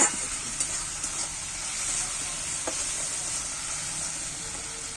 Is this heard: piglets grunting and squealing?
no